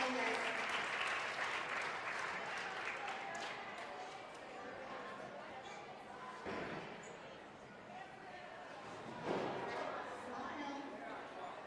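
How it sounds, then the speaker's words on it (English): At a unified bowling league championship, an audience applauds the runners-up with quiet, sustained clapping amid voices, broken by a couple of sharp bangs from the hall. "Give them a round of applause."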